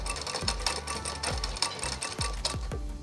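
A sewing machine runs in quick close bursts while double-stitching a frock down to the waist, each burst of rapid needle clatter stopping and restarting, close and steady with no voices.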